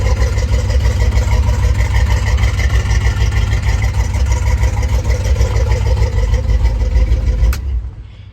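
A Kawasaki K10 engine idles steadily and loudly up close, a dense, even mechanical drone with a slightly rough edge that holds for several seconds before abruptly cutting off near the end.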